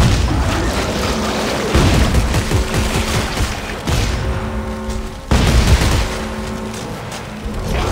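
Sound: gunfire from the video game Dead Space 3

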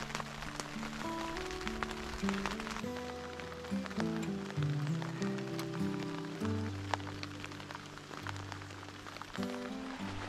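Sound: rain falling on campsite

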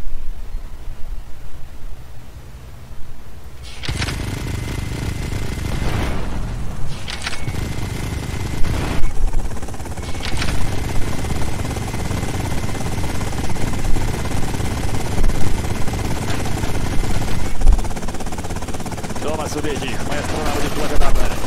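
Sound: gunfire at a ship, from video game GTA Vice City

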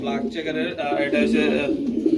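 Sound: pigeons cooing at a pigeon farm

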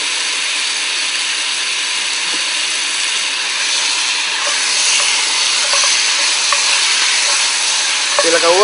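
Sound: meat sizzling as it is seared on a braai

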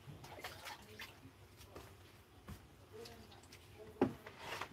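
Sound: washing a rubber stamp with water

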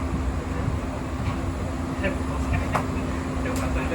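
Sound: train departing

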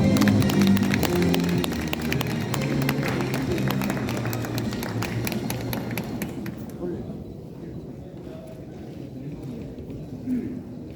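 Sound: audience applause at an award ceremony

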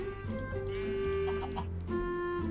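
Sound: chickens clucking in Minecraft video game

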